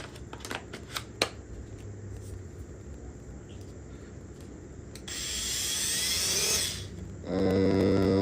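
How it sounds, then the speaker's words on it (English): An SPTA cordless mini polisher with a wool pad starts cutting down a plastic headlight lens, whirring up loudly after a stretch of quiet handling clicks, then dipping briefly before running again at full speed. "I am going to start cutting that lens down with the wool."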